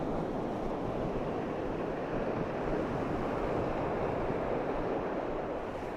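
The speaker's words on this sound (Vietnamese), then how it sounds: "Chúng ta đang nhìn thấy một con thác ở đây." A waterfall in Iceland roars as a steady, dense rush of falling water, loud and unbroken throughout, with wind buffeting the microphone.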